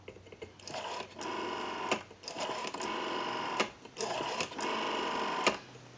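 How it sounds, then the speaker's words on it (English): An ITT 500 rotary telephone dial, freshly repaired, whirs back after each number in a series of smooth mechanical buzzing runs separated by short gaps, close and fairly quiet. "We have a nice smooth return on our rotary now."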